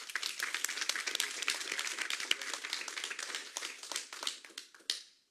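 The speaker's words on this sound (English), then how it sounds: "can we get a round of applause?" Applause for the parents and guardians at a city council meeting: a dense, steady patter of many hands clapping in a room, holding for several seconds before thinning out and ending with a few last claps.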